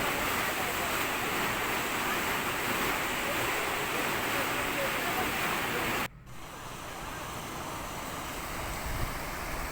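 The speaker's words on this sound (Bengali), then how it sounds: "বড় বড় পাথরের মধ্যে দিয়ে নদীর জলধারা বয়ে চলেছে, হাওয়া দিচ্ছে" River water rushing among big rocks with wind blowing, a loud, dense, steady roar up close that cuts out abruptly midway and resumes softer and more distant, with no talking.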